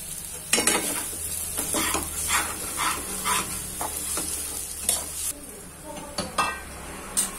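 Grated coconut is sautéed and stirred in a hot pan for Nagpur-style sambar wadi filling: repeated close scraping spatula strokes over a steady sizzle, with occasional louder knocks against the pan.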